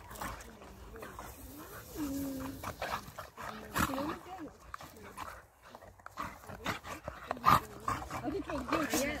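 Staffordshire terriers play together, letting out high whimpers and whines with short yips and panting, close by, with voices now and then in the background.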